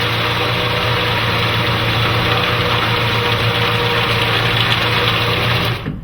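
A Moore-O-Matic opener's electric motor drives its block along the screw through a pulley and belt, a loud, steady close-up hum with a faint rattle, running continuously before cutting off abruptly at the very end.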